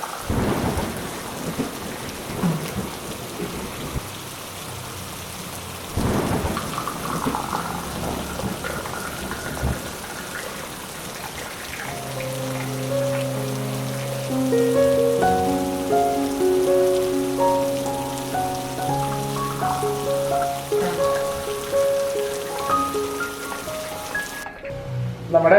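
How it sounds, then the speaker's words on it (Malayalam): Heavy rain pours steadily outside a home kitchen while thunder rumbles and cracks several times; near the end a layer of steady tonal sounds rises over the rain, and no one speaks. "പുറത്ത് നല്ലൊരു മഴ പെയ്യുന്നുണ്ട്."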